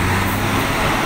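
Buses pull out of Kampung Rambutan bus terminal in Jakarta amid a dense, loud rumble of diesel engines and roadway noise, heard briefly and close by.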